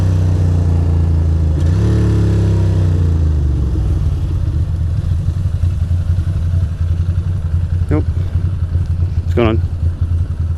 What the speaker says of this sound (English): And we got another motorcycle.